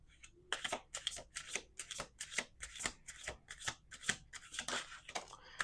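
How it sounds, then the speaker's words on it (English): Tarot cards being riffled and shuffled in quick repeated bursts, crisp papery flutters following one another steadily, close to the microphone. "Let's do 2 more shuffles."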